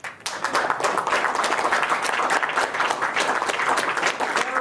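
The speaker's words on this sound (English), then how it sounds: "round of applause for Keith, right?" A festival audience at the Sydney Underground Film Festival gives a round of applause for a guest, many hands clapping in a steady, dense wash that holds strongly for several seconds.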